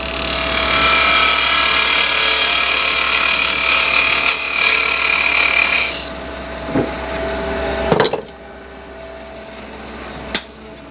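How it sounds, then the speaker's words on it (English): A spindle gouge cuts a wooden pepper mill spinning on a lathe, a loud steady rasping shave for about six seconds, then quieter motor hum with a few sharp clicks and knocks. "all you really need to do is take a spindle gouge"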